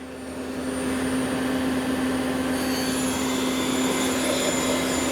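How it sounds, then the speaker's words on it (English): A 2011 Citizen M-20V Swiss-type CNC lathe spindle running at 2000 rpm, a steady close whine with a strong constant tone that swells slightly at first and then holds even, with no talk. "That's the spindle running at 2000 currently."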